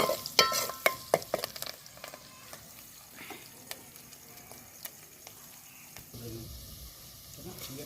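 Broad beans curry with curry leaves frying in a pan, opening with a few sharp stirring scrapes and clinks, then a soft steady sizzle under faint background noise.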